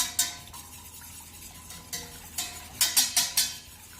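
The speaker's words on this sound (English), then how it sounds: "I'm just going to give that a quick whisk around" A quick whisk stirring vanilla seeds into milk in a pan, heard as a handful of light metallic clinks and scrapes, sparse at first then bunching into a rapid run of taps near the end.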